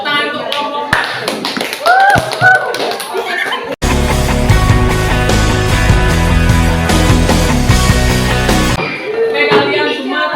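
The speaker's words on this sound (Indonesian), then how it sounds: "Tepuk tangan untuk kelompok 4." Classroom students break into a dense round of clapping for a group that has just presented, lasting about five seconds, with voices talking before and after.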